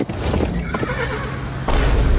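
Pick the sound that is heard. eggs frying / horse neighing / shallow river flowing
horse neighing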